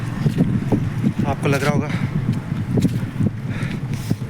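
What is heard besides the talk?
strong wind blowing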